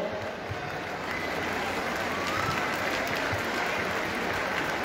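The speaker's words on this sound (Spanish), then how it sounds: "para que pedimos un fuerte aplauso" A large fair-inauguration crowd applauds during a crowning ceremony, dense continuous clapping heard from a distance, even and sustained throughout.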